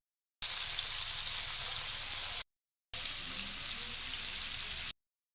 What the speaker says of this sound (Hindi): एपटे मु माछ भाजुची।